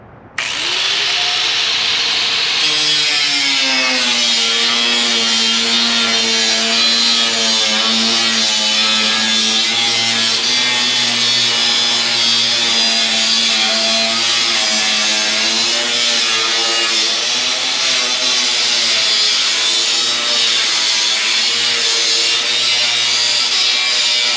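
A power saw cuts a piece of wood with a loud, sustained whine that spins up at the start and then holds a steady droning pitch, close and uninterrupted for over twenty seconds.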